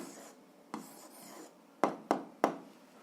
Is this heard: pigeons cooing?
no